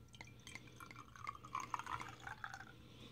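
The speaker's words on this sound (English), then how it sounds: "Let's see that beautiful pouring footage." A dark stout beer pours into a glass, making faint gurgles and splashes in a steady trickle for a few seconds with no talking.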